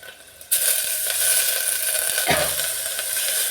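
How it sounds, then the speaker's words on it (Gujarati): Water hits a hot pan with turmeric in it with a sudden loud hiss, settling into a steady, vigorous sizzle that continues close by. "પછી એની અંદર આપણે થોડું પાણી નાખીશું"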